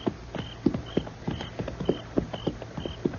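Horse hooves clip-clopping at an even walking pace as a radio drama sound effect, a steady series of sharp close hoofbeats with no voices.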